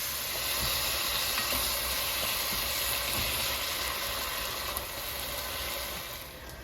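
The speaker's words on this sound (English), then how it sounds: "now we have pretty much browned our ground beef up" Ground round beef browns in a pan with a loud, dense, continuous sizzle and hiss that eases slightly toward the end.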